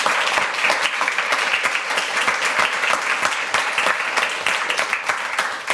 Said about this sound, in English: Can we give a round of applause for Dr.